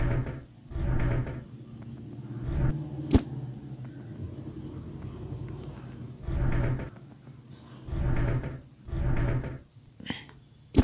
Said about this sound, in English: the door has opened up